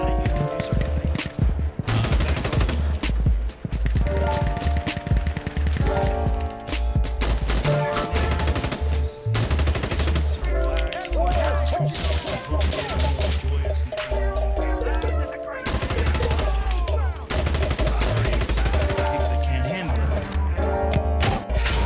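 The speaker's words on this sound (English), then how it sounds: "Oh, and they shot me through the wall." Insurgency: Sandstorm co-op battle gunfire rattles almost without pause: dense, loud automatic bursts and single shots stack over one another with crashing impacts throughout.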